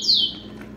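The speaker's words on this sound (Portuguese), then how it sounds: "o canarinho resolveu cantar agora" A canary gives a short, high, bright chirp of song close by, dropping quickly, followed by a quiet hum in the room.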